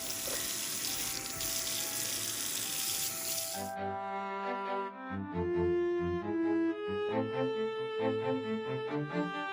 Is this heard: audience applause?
no